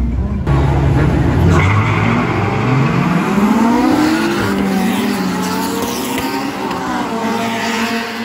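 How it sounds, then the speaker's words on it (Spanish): Race cars at an auto race in Panama roar past loudly, engines revving and rising in pitch with a passing sweep, tyre noise layered in, a continuous close rush of motor sound. "nos vinimos a ver las carreras de autos mientras tanto"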